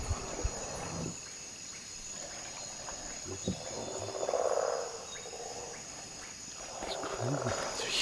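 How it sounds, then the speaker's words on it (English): Huge frogs call at night in the Amazon along the Urubu River, low croaks and swelling calls rising and falling over a steady insect drone, moderately distant. "They're huge frogs."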